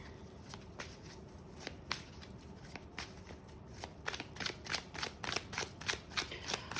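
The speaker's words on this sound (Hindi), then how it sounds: "just think of yourself and your person while I'm shuffling the cards." Tarot cards being shuffled in quick, soft riffling bursts that repeat and grow denser toward the end, close and fairly quiet.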